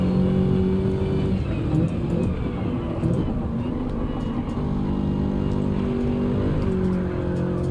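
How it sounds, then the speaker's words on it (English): Race car engine in Gran Turismo 7 held near its rev limit, a loud, continuous high-pitched drone with slight pitch shifts as the car is pushed hard around a track. "I am pushing this car to its limits"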